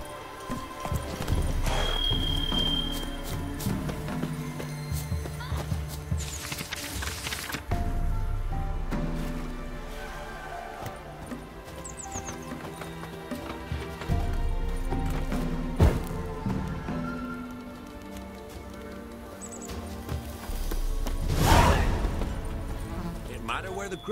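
Horse hooves clip-clop at a gallop in The Witcher 3 on Xbox One X, a continuous rhythmic pounding with an occasional whinny, game music and character dialogue running over it.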